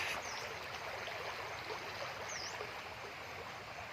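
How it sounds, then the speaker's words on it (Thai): A waterfall in natural forest surroundings produces a constant, even rush of water. A couple of faint bird chirps sound briefly over the top. "เสียงน้ำตกตาด"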